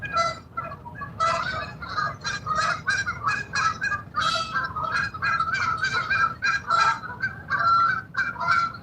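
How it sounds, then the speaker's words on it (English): Noisy geese honk repeatedly near a freshwater fishing spot, a dense, overlapping chorus of loud nasal calls continuing throughout with no talk. "Anthony, yep, definitely noisy geese, Anthony."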